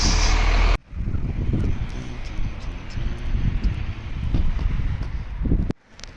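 A large bus rumbles past close by in the village of Aurín, Sabiñánigo, Huesca, a steady roar with some wind buffeting, rising and fading over several seconds.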